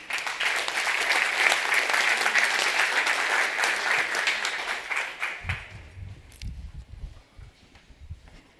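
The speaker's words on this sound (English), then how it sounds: "Please give a warm round of applause for Pierre-Marie Aubert." A conference audience at a food sovereignty event breaks into loud, dense applause that holds for about five seconds, then thins into scattered claps and footsteps as it dies away.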